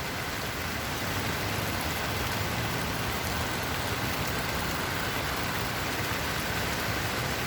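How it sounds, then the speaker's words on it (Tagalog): Steady rain falls outdoors on a wet birthday visit, a dense even hiss of drops on surfaces holding at one level throughout with no voices. "Ayan guys, oh, maulan."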